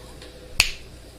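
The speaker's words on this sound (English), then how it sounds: "Here, I'm gonna snap my fingers." One sharp, close finger snap lands alone in a quiet room on a live talk show, a single crisp click with nothing else around it.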